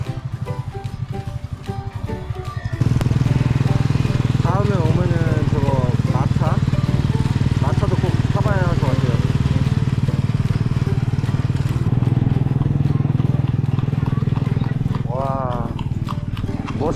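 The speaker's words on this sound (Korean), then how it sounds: "지금 이 인력거 비슷한 오토바이 인력거는 아직 인력거도 아니고 오토바이도 아닌 이 차를 이용하는데" A motorcycle rickshaw's engine runs with a steady, loud droning hum during a ride through the streets of Yogyakarta, with voices faintly audible over the engine noise.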